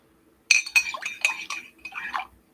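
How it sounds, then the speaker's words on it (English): A spoon stirs something in a container, tapping and clinking against the sides in a quick run of bright metallic and glassy knocks lasting about two seconds, close and clear with no talking. "But I better stir this up."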